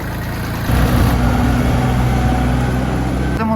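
A Kubota KT 24 compact tractor engine idles, then rises to a steadier, louder running rumble that continues throughout, close by.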